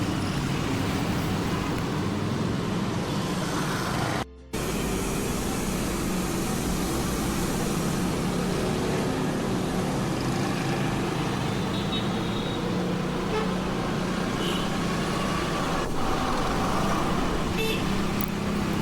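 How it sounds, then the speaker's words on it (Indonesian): Dense road traffic drones on continuously, engines idling and rumbling close by in a traffic jam, with a few brief horn toots in the background. "ini macet banget ini"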